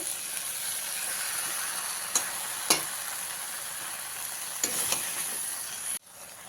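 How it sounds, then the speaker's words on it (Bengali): Chopped red amaranth greens are stirred through hot oil in a pan, giving a continuous sizzle. A few sharp spatula scrapes and knocks land at intervals, and the frying noise cuts off abruptly near the end, with no voices. "শাকটা আমি ভালো করে মিশিয়ে নিচ্ছি"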